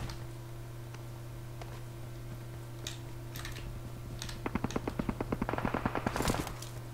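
MG3 machine gun fire in PUBG Mobile: a fast, steady rattling burst of rapid shots late in the clip. It sounds fairly distant and sits over a constant low hum, with no talk.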